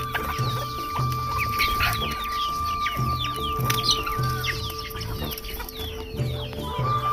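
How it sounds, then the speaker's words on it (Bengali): Pet chickens cluck loudly and continuously in the morning, a busy overlapping chatter of short calls from several birds close by with no voices. "এই মুরগিগুলো আমি খুব শখ করে পালি, তার জন্য এগুলোর জন্য সকালবেলা উঠে চিল্লা পাল্লা শুরু করে দেয়।"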